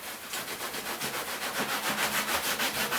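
Triplewax textile cleaner being worked into fabric with a microfibre cloth, giving a steady rhythmic rubbing that swells and fades about five times a second, close and fairly loud with no voices.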